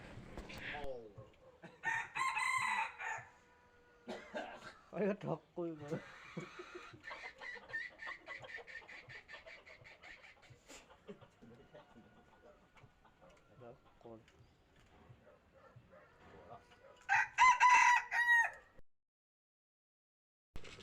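A wild jungle fowl rooster crows loudly twice, near and clear, at the start and again near the end, with softer clucking and someone talking in between.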